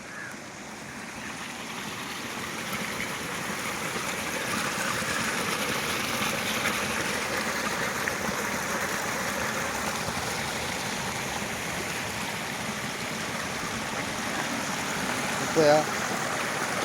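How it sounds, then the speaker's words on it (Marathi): Water gushes steadily from a leak in a dam, a broad continuous roar at even loudness for the whole stretch, with a brief tap near the end. "एवढ्या जोराजोराने बघा हा धरण आहे एवढ्या जर जोराने पाणी निघालं"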